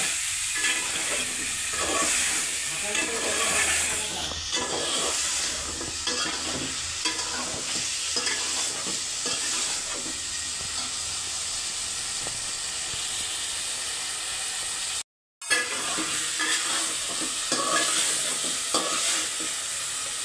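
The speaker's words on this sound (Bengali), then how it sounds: "4 চামচ মতো দিয়েছি আদা রসুন বাটা। এটা আরও কিছুক্ষণ ভেজে নেব, কষিয়ে নেব।" Ginger garlic paste frying in a pan while being stirred, with a steady loud sizzle and hiss, scraping strokes throughout and one brief silent break.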